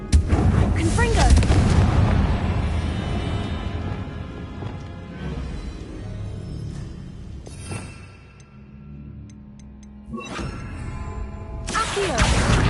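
Confringo blasting-curse explosions from the Hogwarts Legacy video game: heavy booming blasts with crackling debris, a big burst at the start, a quieter lull, then another loud blast near the end, with a voice calling out in between.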